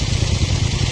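A motorcycle engine running during a morning ride on the road toward a temple, a steady low rumbling drone that sits close and fairly loud, with no talk over it.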